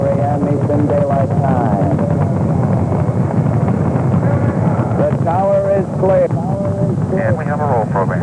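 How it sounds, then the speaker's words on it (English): The Apollo 15 rocket's engines roar at liftoff in a steady, loud, broadband rumble that carries throughout while voices talk over it. "Apollo 15 lifted from the pad on its way to the moon"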